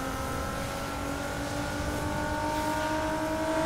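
A 1000 hp street-racing car engine in the video game NFS Heat holds a steady, fairly quiet drone as it revs through a shift, with no talk.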